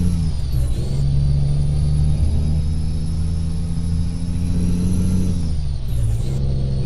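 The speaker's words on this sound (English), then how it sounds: "Take the handbrake off, always helps." Truck idling in Euro Truck Simulator 2 with a hiss of air as the handbrake releases, a steady loud engine rumble running throughout.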